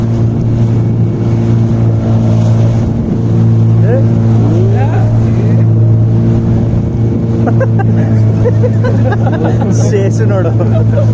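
Motorboat ride on Pykara Lake near Ooty, with a steady droning engine hum running loud and continuous throughout, wind buffeting the microphone and passengers chattering over it.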